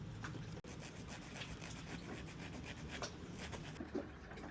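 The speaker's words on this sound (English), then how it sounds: "I think what I need to do is clean this off with a sandpaper" Close, steady rasping of sandpaper rubbing back and forth on a boat part during an underway repair, faint and continuous with no talking.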